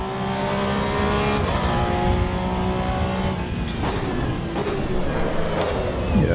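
Race car engine in the Assetto Corsa Evo racing game, revving and shifting through gears with rising and falling harmonic whine, loud and continuous throughout.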